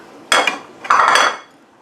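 Butter dropping into a mixing bowl while making sugar cookie dough: two short, fairly loud clattering knocks about half a second apart, with a brief ringing tail and no voices.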